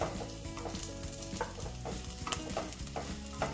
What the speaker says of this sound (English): Wait till the dals become a little brown in color so that it gives a nutty flavor to the masala.